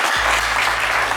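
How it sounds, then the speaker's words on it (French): A studio audience on a French TV game show breaks into sustained, loud applause, a dense wash of clapping that fills the whole moment without any voices. "on va vous raccompagner avec un tonnerre d'applaudissements"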